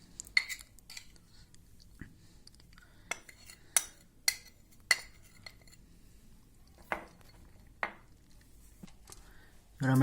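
Soaked lentils mixed with shredded cabbage for fritters, marked by a series of light, sharp utensil clinks against a bowl at irregular intervals over quiet background, with a louder knock at the end.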